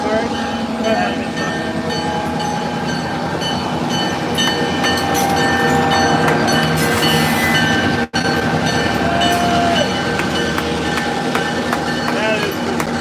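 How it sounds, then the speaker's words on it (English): A big freight train rolls past near old copper mine country in Blue Ridge, Georgia, a loud, steady rumble with rail clatter and faint wheel squeal throughout, sustained for the whole stretch. "That's a big train, man."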